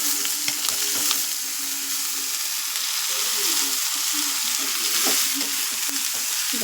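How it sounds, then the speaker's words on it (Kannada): Boiled vegetables and green gram stirred into a pan of sizzling onion tempering give a steady, close hiss of frying, punctuated by scraping stirs of the spoon and no talk. "ಇವಾಗ ನಾವು ಬಸ್ಕೊಂಡಿರೋಂಥ ತರಕಾರಿ ಹೆಸರು ಕಾಳನ್ನು ಈ ಈರುಳ್ಳಿ ಒಗ್ಗರಣೆಗೆ ಸೇರಿಸ್ಕೊಳ್ಬೇಕು"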